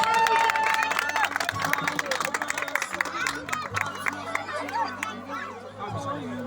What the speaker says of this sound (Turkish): bir daha alkışlıyoruz efendim alkışlıyoruz